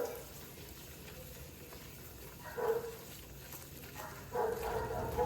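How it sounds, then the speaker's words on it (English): Dogs bark in a house in two short bursts over the steady sizzle of oil frying for a seafood gumbo, while someone cooks in the kitchen. "The dogs is barking"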